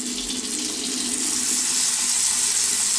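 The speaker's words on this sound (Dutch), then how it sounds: "jullie horen nu de kraan natuurlijk." Kitchen water tap running steadily into a sink, a continuous close splashing hiss with no pauses and no talking.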